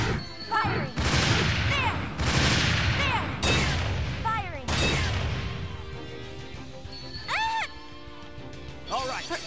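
Gunfire and explosions from the video game Dark Rose Valkyrie, several loud cracking bursts with a clear rhythm, mixed with game music and voiced character lines.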